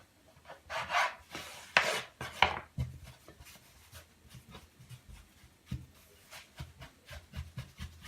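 A knife cuts through candied fruit in a string of quiet, uneven strokes. Several crisp rasping slices come early, followed by softer taps and scrapes on the board.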